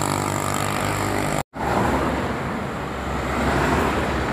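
Tour buses on a Javanese road toward Jogja roar past close by, a loud engine pass that cuts briefly, then a second broad rush of engine and road noise sweeping by.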